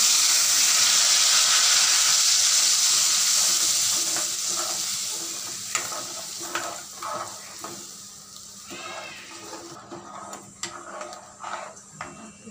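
A yogurt and spice paste fries in a pan for veg biryani, giving a strong steady sizzle that fades to softer crackles and stirring scrapes, with no talking.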